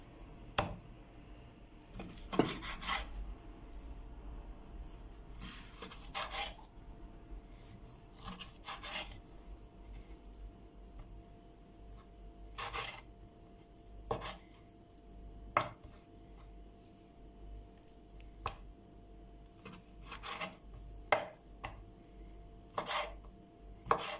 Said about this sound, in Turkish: Şimdi tavuk göğüslerini doğrayalım.